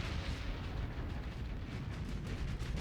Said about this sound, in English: Look at all the flashbangs.